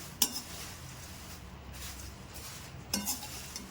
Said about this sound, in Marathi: कढईमध्ये पोहे आपण थोडे थोडे करून भाजूया